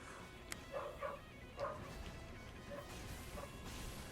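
A dog barks in the video game Dark Souls III: several short sharp yelps scattered over a few seconds, mixed with a thudding crash and faint, fairly distant game noise.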